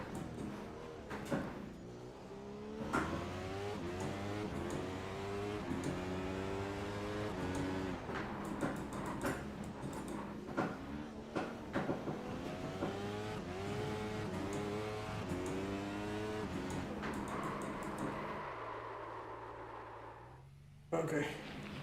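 Formula One car engine in a racing game, a sustained high-pitched revving drone that rises and falls steadily with gear changes, loud and continuous, cutting out briefly near the end.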